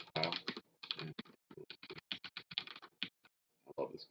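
Fast, uneven clicking from a computer keyboard being typed on up close, with short pauses between bursts of keystrokes during a game-design coding session.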